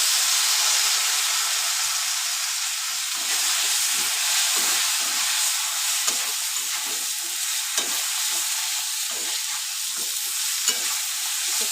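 Chili and eggplant sizzle and fry in a pan with hilsa fish, a loud steady hiss of oil running throughout, broken by repeated scraping stirs. No one speaks.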